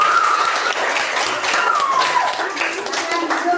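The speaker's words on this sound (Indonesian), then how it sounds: "Tepuk tangan." Students in a classroom clap for a group that has just finished a presentation, with brisk, close hand claps mixed with chatter and overlapping voices throughout.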